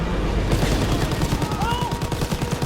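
Rapid, continuous machine-gun fire with overlapping gunshots in a World War II combat game set near a train at Falaise, France, loud and close, rattling in an unbroken fusillade.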